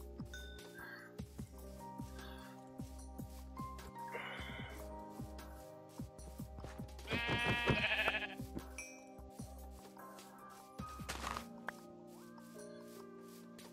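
Sheep in Minecraft bleat in a few distinct bursts, with one longer, louder call in the middle, over a looping ambient game tune with soft plucked tones and occasional clicks.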